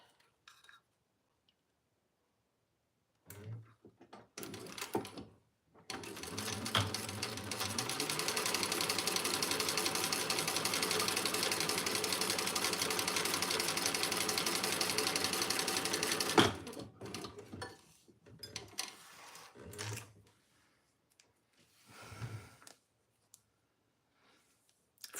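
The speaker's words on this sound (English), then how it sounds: "let's sew down a 1/4 inch" A home sewing machine stitches a quarter-inch seam on a Small Ciana pattern, running in one steady whirring burst of about ten seconds, framed by short starts, clicks and handling noises before and after.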